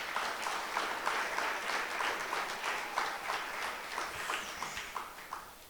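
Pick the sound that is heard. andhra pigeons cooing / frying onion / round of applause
round of applause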